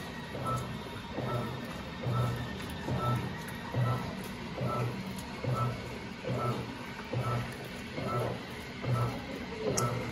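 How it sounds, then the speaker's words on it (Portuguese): Electrolux LPR17 17 kg impeller top-loading washing machine on its quick cycle, settling the load: a steady mechanical churning with regular rhythmic pulses roughly every second, moderately close with a constant background hum. "Agora então ela já começou a acomodação da carga"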